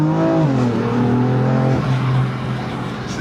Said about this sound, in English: Listen to the exhaust.